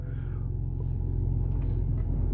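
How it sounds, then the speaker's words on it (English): A BMW 320i E90 engine idles steadily after a cold start in icy weather, a dense low rumble that stays constant and close with no voices. "And there's the engine."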